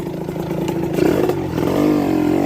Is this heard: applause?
no